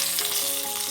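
Oil for a rasam tempering sizzles in a pan, with a short, close, steady crackling hiss and no talk.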